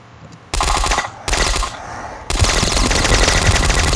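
Rapid automatic Uzi fire in the video game Boxhead, sustained loud bursts with a brief gap between them, no talking.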